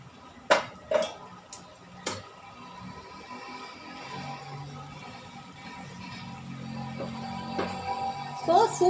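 Cooked pasta goes into a pan of white sauce with a few sharp metallic clinks of a spoon against the pan early on, then softer stirring and scraping, with a couple more clinks near the end.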